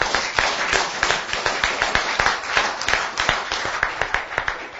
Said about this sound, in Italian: E fatevi un bel applauso